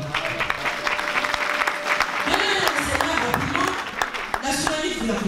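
An audience claps at a Christian gathering in Paris, a dense crackle of many hands that stays steady throughout, with voices calling out over it.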